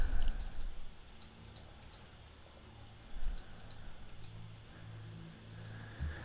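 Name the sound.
computer mouse clicking in Visio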